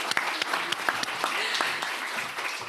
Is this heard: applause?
yes